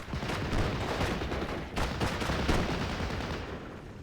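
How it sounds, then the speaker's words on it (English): Dense machine gun fire from the WWII strategy game Steel Division, a continuous loud roar of overlapping bursts and battle noise filling the whole stretch without pause. "Machine gun doing a lot of good work."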